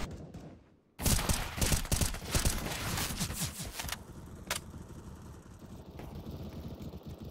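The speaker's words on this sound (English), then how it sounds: "Throwing flashbang." In Counter-Strike, a flashbang and smoke grenade go off with a sudden loud burst, followed by a long, rough, hissing roar and scattered sharp pops that keep going after it.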